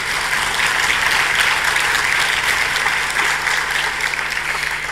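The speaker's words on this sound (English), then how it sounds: "If we could give them a round of applause, please" Audience applause at a partners forum closing ceremony in Vigyan Bhawan hall, a steady, sustained wash of many hands clapping, even in loudness from start to finish with no talk over it.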